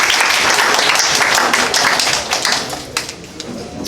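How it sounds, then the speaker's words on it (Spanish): An audience applauds a man seated at the back of a training session, dense steady clapping that holds loud for a few seconds and then thins and tapers toward the end. "Un aplauso para el señor allá atrás, por favor."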